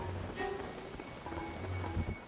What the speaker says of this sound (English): Yeah, it's gonna rain. I hate the rain.